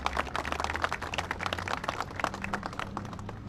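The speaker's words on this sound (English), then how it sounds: "yep, you can clap for Boyer" Crowd applause for Ryan Boyer of the Philadelphia Building Trades at a Governor Shapiro press event on the I-95 reconstruction, a dense, steady patter of many hands clapping throughout.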